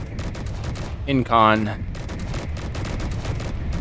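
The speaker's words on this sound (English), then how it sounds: "Oh no, I heard a turret go off." Turret in Space Engineers firing a rapid stream of shots, a dense, even rattle of gunfire that runs the whole time, with a brief spoken word cutting in partway.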